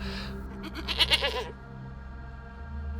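A goat bleats in a short wavering cry in the middle, moderately near, over a low background hum with no talk.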